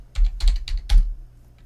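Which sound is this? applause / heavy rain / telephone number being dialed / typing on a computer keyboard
typing on a computer keyboard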